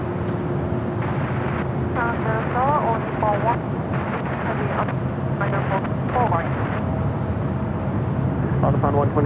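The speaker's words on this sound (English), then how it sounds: "Chicago 767 now rolling down at 25 right." A Boeing 767 on its takeoff roll down a runway at LAX gives a broad, sustained roar, with radio-style voices talking over it throughout.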